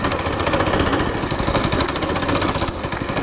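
A warmed-up go-kart engine runs fast and rough, slightly bogging, at a steady, loud, buzzing pace, close by, with no pauses or talk.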